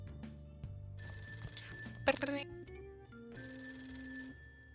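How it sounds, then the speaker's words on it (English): Telephone ringing in the video game Persona 5 Royal, a quick trilling bell burst in the middle of the clip over soft background music, fairly faint. "Answer the phone."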